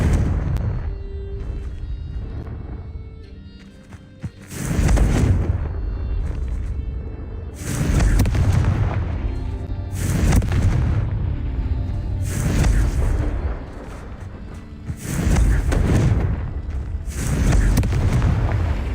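Repeated Confringo spell blasts in the Hogwarts Legacy video game, about five loud booming explosions spaced a few seconds apart, each with a fiery burst and rumbling tail over game music.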